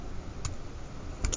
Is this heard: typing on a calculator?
yes